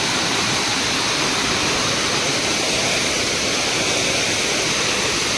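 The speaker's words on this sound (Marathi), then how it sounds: "ते धबधबा बघा." The Savdav waterfall in Konkan roars as a steady, dense, loud wash of falling water, close and unbroken throughout, with no talk over it.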